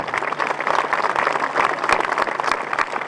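Audience applause at an outdoor sound-and-light show in Brebotte: a dense, steady wash of many hands clapping, fairly close and sustained throughout without pause.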